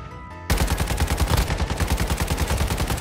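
Rapid automatic gunfire in Warzone Mobile erupts after a short pause and continues in a fast, loud, evenly spaced burst of shots.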